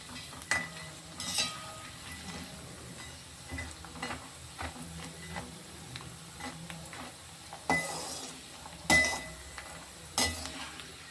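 Leftover-rice vadagam frying in a small amount of oil, a soft steady sizzle with scattered clinks and scrapes of a ladle against the pan, fairly quiet and close.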